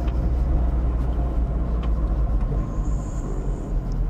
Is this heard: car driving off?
yes